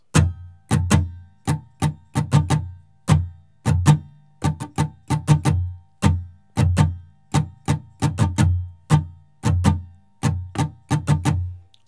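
An acoustic guitar is strummed in a repeating down-up-down pattern, each group of sharp, bright strokes followed by a short pause, close and clear with no talking.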